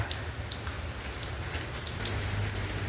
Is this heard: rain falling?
yes